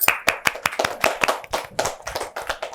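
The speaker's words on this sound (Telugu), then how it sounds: "మనం అందరం కూడా ఒకసారి క్లాప్స్ కొట్టుకుందాం" An audience claps at an Independence Day patriotic song performance by a music academy, giving a short burst of sharp, fairly close handclaps that come in a loose, uneven rhythm.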